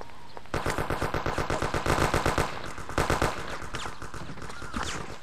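Enemy machine-gun fire in the game Mafia: rapid evenly spaced bursts of close, loud shots in two long runs, fading into a lingering rumble at the end.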